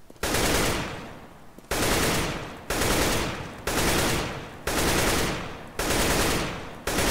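Six rapid bursts of automatic rifle fire in the video game CS:GO, each about a second long and evenly spaced, loud and close with a brief pause between bursts.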